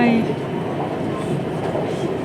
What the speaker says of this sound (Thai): ตอนนี้เขากะอยู่ที่บนรถไฟเนาะพี่น้องเนาะ